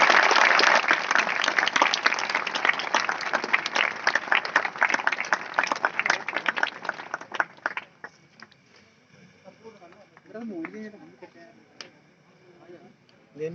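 Loud, dense audience applause fills a lamp-lighting ceremony at a traffic awareness program in Sonebhadra, then fades out after about eight seconds. A speaker's voice continues afterward.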